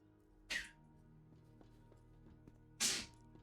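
Two short, sharp sneezes burst out about two seconds apart over a quiet, faintly humming background.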